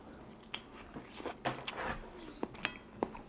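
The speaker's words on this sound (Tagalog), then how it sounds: "Umpisa na natin kainin itong jumbo lobster" Someone bites into and chews a jumbo lobster at close range, with scattered cracks of shell and wet chewing, plus a few sharp snaps over quiet room noise.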